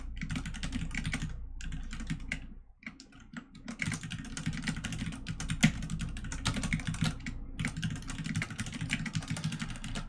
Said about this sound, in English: This keyboard that I'm using right now is the Ducky 1 Mini